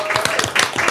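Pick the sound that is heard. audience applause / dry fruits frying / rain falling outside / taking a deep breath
audience applause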